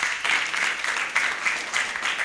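Audience applause at a school celebration for International Children's Day, a steady broad patter of many hands clapping throughout, moderately loud with no pauses.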